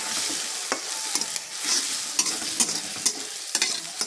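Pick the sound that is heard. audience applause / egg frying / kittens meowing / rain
egg frying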